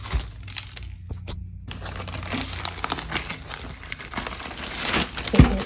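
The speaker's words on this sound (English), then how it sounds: "Put it in our plastic bag here." Plastic bag crinkling and rustling as meat is put in, close and continuous with crackly handling noises.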